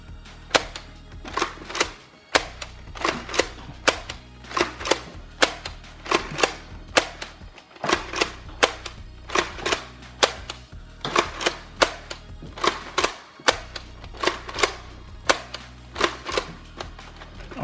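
A Nerf Lumitron blaster fires Lightake Vortex discs in repeated bursts, each shot a sharp close snap in quick rhythmic groups, with short pauses and mechanical clicks between volleys.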